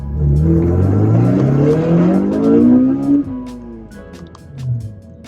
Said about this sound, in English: That's just the first gear and the car hit like 70.